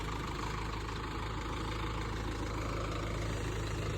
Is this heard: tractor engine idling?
yes